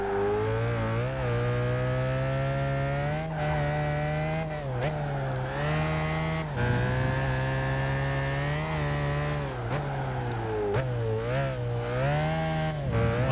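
Car engine in Gran Turismo 5, an MP4-12C revving hard and alone, its pitch climbing through each gear and dropping sharply at the shifts, repeated several times at close range.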